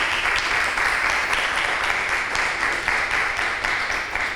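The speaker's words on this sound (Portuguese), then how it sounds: "Eu pedia só um aplauso para o professor Yao Jingbing" An audience at an academic talk on literary exchanges applauds a professor with dense, sustained clapping that stays at an even, loud level with no voices over it.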